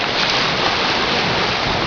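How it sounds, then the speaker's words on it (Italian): Sea waves wash against the rocky shore at Sant'Angelo on Ischia, a loud, close, steady roar of surf mixed with wind rumble on the microphone, with no voices. "senti il mare di Ischia"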